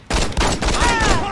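Rapid burst of gunfire in the Saints Row video game, loud and close, a dense fusillade starting abruptly and carrying on for over a second with a faint voice underneath.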